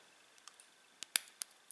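A lock pick works the pins of a 40mm vintage Junkunc Bros. American padlock, giving faint scattered ticks and then several sharper, close metallic clicks as pins set, with no talking.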